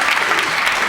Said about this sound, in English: they clapped for that